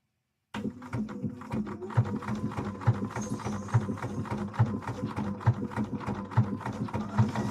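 A sewing machine stitches cosplay fabric for a Twilight Princess Link costume. It starts after a brief silence and runs as a steady, close mechanical whir with regular rhythmic needle thumps, about one per second.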